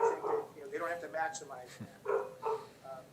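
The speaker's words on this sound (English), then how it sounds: "That's our dog barking." A pet dog barks and yips indoors in the background while a person keeps talking over it during a city council plan commission meeting held online.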